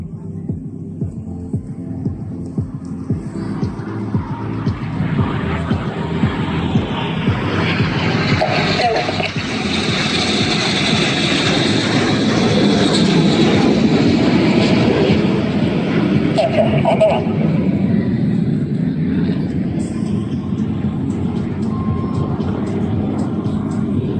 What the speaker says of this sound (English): Each aircraft will perform a barrel roll, Chris in the middle, followed by a second barrel roll in the double rolls.